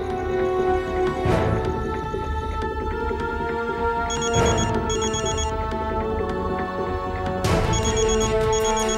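A telephone rings in a Hindi TV drama scene while a call goes unanswered, giving repeated electronic ringtone bursts in a steady pattern against a sustained tonal music bed, with no talking.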